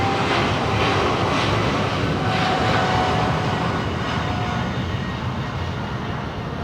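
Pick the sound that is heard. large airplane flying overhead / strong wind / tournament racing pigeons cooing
large airplane flying overhead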